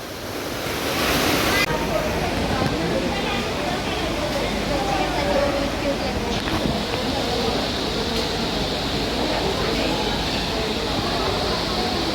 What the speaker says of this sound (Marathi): हे पाणी एवढं वेगाने धावत असतं